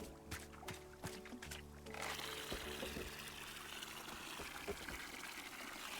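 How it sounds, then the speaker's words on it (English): A frog-shaped watering can pours water in the video game Wanderstop, a soft splashing trickle that starts after a few quiet plinks and then flows steadily and gently. "The frog watering can, it's extremely cute."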